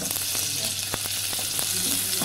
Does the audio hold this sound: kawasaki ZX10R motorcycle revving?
no